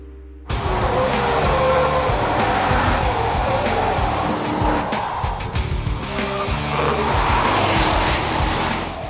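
A car on Dunlop SP Quattro Max tires accelerates hard around a test track, a loud, continuous engine roar with tire squeal rising and shifting close by for the whole stretch after a brief quiet start.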